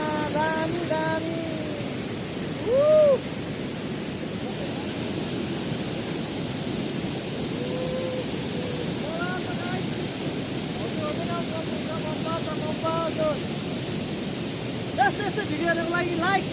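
Rani waterfall in Bhaktapur gives a constant, loud, hissing rush of falling water that fills the whole scene, while several people talk and call out over it now and then.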